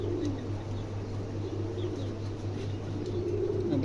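A pair of very small, doll-sized pet pigeons coo softly and faintly against a constant low background hum, with no talking.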